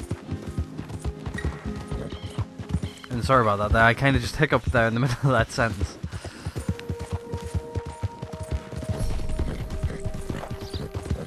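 Horse hooves clip-clop in a steady, rhythmic trot in the video game Red Dead Redemption 2, running continuously beneath someone talking throughout.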